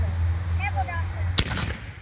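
A Legend Raptor brocade canister firework shell bursts with one sharp loud boom, followed by a short crackling decay, after a low hum and faint voices beforehand.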